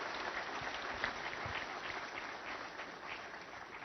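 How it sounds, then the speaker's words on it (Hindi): Steady applause from a crowd at a navy innovation seminar, a dense even patter of many hands clapping at moderate volume and continuing without a break. "एक बार जोरदार तालियां हो जाइए इनके स्वागत के लिए"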